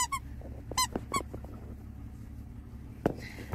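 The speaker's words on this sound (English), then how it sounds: "Hopefully it squeaks, of course, and it has a little barbell" A Tough Love Toys squeaky dog toy with a little barbell gives several high, honking squeaks in quick clusters, then a single later squeak with quiet room noise between.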